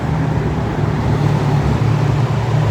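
Steady city traffic rumbles close by as a continuous, loud wash of car and road noise with a low engine hum and no clear pauses.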